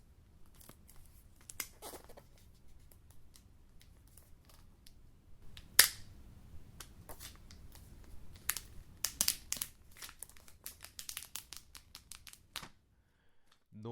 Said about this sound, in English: Notice how one pull opens up the plastic packaging.